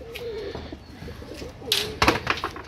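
Soft, low cooing from highflyer pigeons nearby, repeated throaty calls with a few brief rustles and flutters toward the end.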